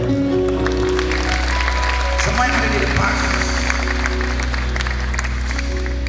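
A church congregation applauds over sustained worship music, the scattered clapping running under a preacher's voice speaking through a microphone.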